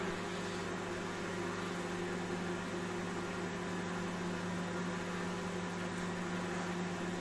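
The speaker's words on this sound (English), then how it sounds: "Now you just chuck it in the microwave." Steady electrical hum of a running microwave oven heating milk, a constant drone with a low whir, unchanging throughout.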